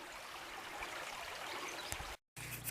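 A small trout stream flows with a steady, soft wash of water, faint and continuous, broken once by a brief silent gap near the end.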